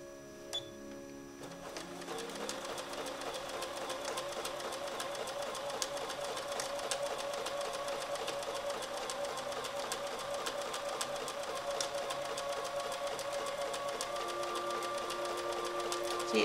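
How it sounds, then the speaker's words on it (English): A sewing machine stitches through layered quilt fabric just inside a seam line, starting after a brief pause and then running as a fast, steady mechanical whir with rapid needle ticking that continues without a break. "Then take it to your machine and stitch just barely inside the stitch line"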